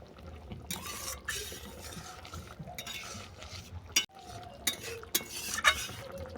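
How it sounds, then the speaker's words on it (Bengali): A mustard spice mix being stirred into a simmering chitol fish curry with aubergine and potato, soft wet scraping and squelching strokes of a spoon in a pan, with a few sharper clinks, close and fairly quiet. "আবারও ভালো করে মিশিয়ে নেব।"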